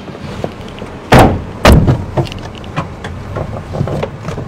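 Car doors slam shut as people climb into a vehicle, two heavy close thuds followed by softer knocks and shuffling inside the car, with no speech.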